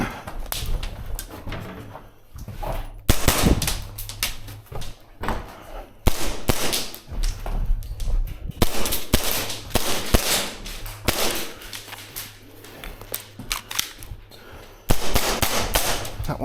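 Tokyo Marui Chisato gas airsoft pistol firing during close-quarters play, sharp cracking shots that come singly and in short clusters, with clatter and movement around them.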